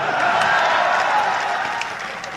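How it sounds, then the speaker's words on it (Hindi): Applause from a comedy show audience, steady dense clapping held at an even level throughout, with a slight fade at the end. "कहीं भी ताली बजाते हो तुम लोग।"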